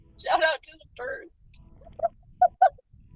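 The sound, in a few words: birds calling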